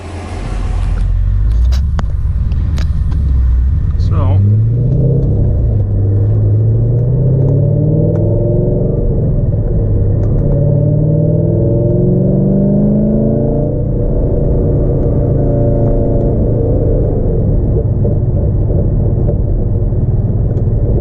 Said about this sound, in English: I think we're going for a test drive.